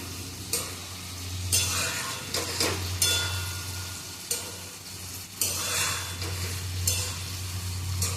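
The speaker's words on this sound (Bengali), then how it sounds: "একটু পেঁয়াজটা ভাজা হোক।" Onions fry in a pan for a home Sunday lunch, giving a soft sizzle broken by several distinct stirring bursts and scrapes, over a constant low electrical hum.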